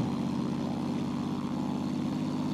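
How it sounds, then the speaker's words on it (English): A steady propeller drone of a Messerschmitt aircraft flying past in X-Plane 11, a continuous even hum at moderate distance with no voices. "Got the Messerschmitt going past again."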